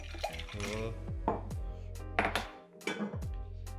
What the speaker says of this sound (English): Then add ice to our mixing glass.